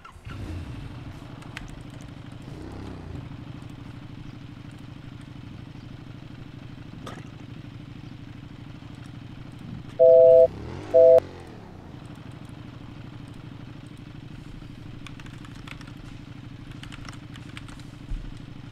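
A motorcycle engine idles in a steady low rumble throughout, close and constant, with a couple of brief revving surges midway and two loud electronic beeps.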